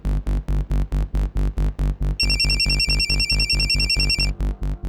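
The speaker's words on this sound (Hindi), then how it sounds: "फोन लगाइए अपने बेटे को।" A phone on speaker rings during a call, a steady rhythm of loud, evenly spaced ringing pulses. A bright melodic ringtone layer joins partway through and runs alongside the pulses.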